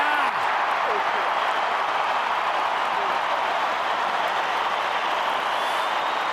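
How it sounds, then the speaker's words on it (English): Stadium crowd at an AFL football match between Hawthorn and Adelaide, a loud, sustained roar of cheering and applause that stays at full volume throughout. "Well, the crowd's going nuts here."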